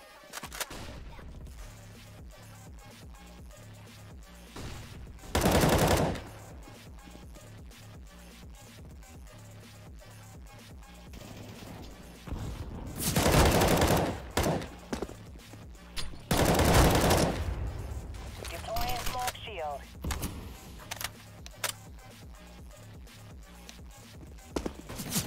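Gunfire in CS:GO comes in several loud bursts of rapid shots between quieter stretches of footsteps and game ambience, with no talking.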